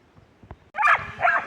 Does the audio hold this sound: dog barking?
yes